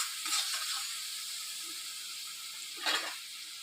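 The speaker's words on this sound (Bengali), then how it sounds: "হলুদ আর একটু লঙ্কার গুঁড়ো এই দিয়ে আমি ভালো করে মশলাটা কষিয়ে নেব।" Spice paste with turmeric and chili powder frying in a pan, a steady soft hiss of sizzling oil close by, with a couple of brief louder bursts as the paste is stirred, no voices.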